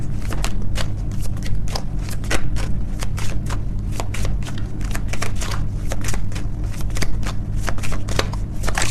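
An angel card deck is shuffled over and over, making a fast run of crisp flutters and riffling snaps that goes on without a break, with no voices.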